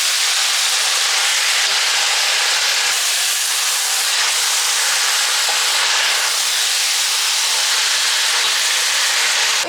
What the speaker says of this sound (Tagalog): Sunod ang ating ground meat. Giniling na karne ng baka. Siyempre, hahaluin.